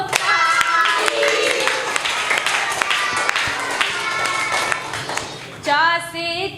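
Children clap their hands in a classroom, a run of sharp irregular claps mixed with singing voices and shouting, with a burst of high chatter near the end.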